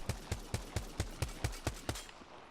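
Scout rifle firing in Apex Legends, a single-shot DMR-style weapon with a fast fire rate: nine sharp, evenly spaced shots in quick succession, loud and close, alone with no voices.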